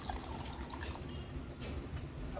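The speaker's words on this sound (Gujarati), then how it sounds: "પાણી નાખ" Water is poured and trickles into a container, a soft, steady liquid splashing and dribbling heard faintly and alone for a couple of seconds.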